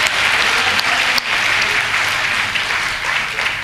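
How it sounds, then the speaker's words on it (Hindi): A comedy show audience breaks into loud, dense applause, many hands clapping together in a continuous roar with a brief dip partway through. "तालियां बजाओ यार"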